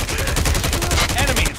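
Rapid automatic gunfire rattles continuously and loudly in a Call of Duty: Mobile team deathmatch, a dense burst of closely spaced shots.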